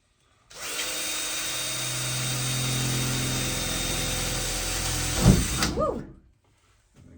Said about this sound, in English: I'm about to drill my first hole in the van.